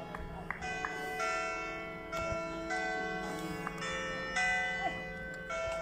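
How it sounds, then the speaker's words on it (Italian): Bells of a nearby church ring out repeatedly in a steady rhythm at the end of a youth football match, their tones overlapping and lingering, heard at a moderate distance with faint background noise. "Al suono delle campane. Anche la vicina chiesa."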